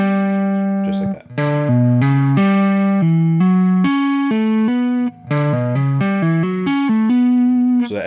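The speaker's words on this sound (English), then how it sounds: "So you're going to tap, pull off, hammer on." Electric guitar playing a fast legato run of tapped notes with pull-offs and hammer-ons, clear sustained tones flowing smoothly from string to string, close and loud with no talking.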